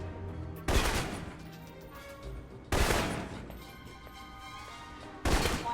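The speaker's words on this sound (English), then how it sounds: "For long-range encounters, the assault rifle's the key." Three loud bursts of assault rifle gunfire crack out at spaced intervals in the video game Alpha Protocol, each sharp and close with a short decaying tail over a low game background hum.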